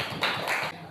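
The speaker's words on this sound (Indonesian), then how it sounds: "tepuk tangan untuk Mbak Eva ya" Applause for a student named Eva in a classroom lesson, a brief burst of clapping hands lasting under a second, fairly close and alone with no talk.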